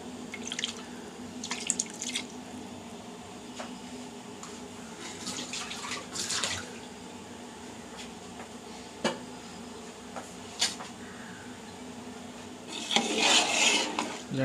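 Three glasses of water poured into a pot of chicken dum biryani and stirred, heard as scattered drips, sloshes and metal utensil clinks against the pot, with a louder splashing burst near the end.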